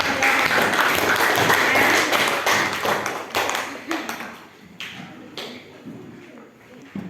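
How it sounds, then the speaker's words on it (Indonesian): Classroom applause for a student group after their presentation, dense clapping and taps that stay loud for a few seconds and then thin out into scattered claps, with some voices mixed in. "kita kasih aplaus dulu untuk kelompok 1"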